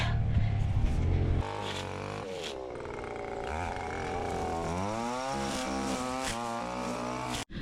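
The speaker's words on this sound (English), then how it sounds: "I didn't realise you were whippersnippering as well." A string trimmer cuts grass edges in a backyard, its small engine buzzing loud and close in a continuous whine that rises and falls in pitch as the throttle changes.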